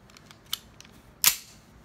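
A WE-Tech Samurai Edge M9 airsoft green gas blowback pistol gives a few light clicks of its mechanism, then one sharp, close metallic snap with a short hissing tail.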